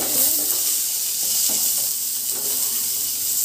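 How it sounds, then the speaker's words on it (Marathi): Chopped onion frying in a pan with cumin, mustard seeds and curry leaves for kanda poha, giving a steady close sizzle with a few soft stirring scrapes and no voices. "जिरी मोहरी कढीपत्ता तळतळल्यानंतर आपण कांदा टाकलेला आहे।"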